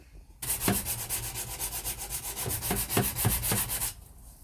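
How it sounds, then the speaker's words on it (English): Filler on a VW T25 campervan dashboard being hand-sanded with 120 grit sandpaper, a close, rapid rhythmic scratching of back-and-forth strokes that starts abruptly and runs steadily for several seconds before stopping. "I'm using a 120 grit sandpaper for this."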